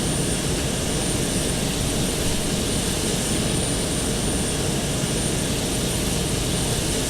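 Boeing 727 jet engines in a flight simulator, a steady, unbroken roar with a faint high whine on top, constant and loud throughout with no talking.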